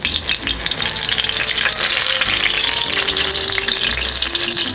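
A chili relleno, freshly flipped, fries loudly in hot oil in a pan, making a dense, continuous close-up sizzle and crackle with no talk.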